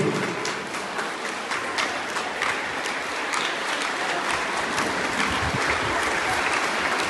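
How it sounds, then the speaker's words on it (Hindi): Schoolchildren at an Independence Day celebration applaud in honour of martyrs, a loud, dense roar of many small hands clapping continuously and evenly throughout. "उन सभी अमर शहीदों के लिए सभी बच्चे तालियां बजाएंगे।"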